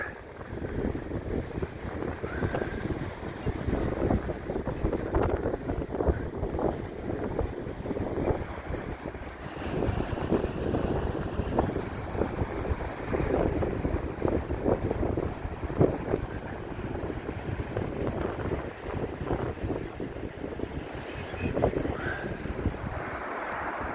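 Wind gusting on the cliffs along the Blackpool promenade, a steady roaring buffet of wind noise across the microphone with a faint wash of sea beneath, and no voices.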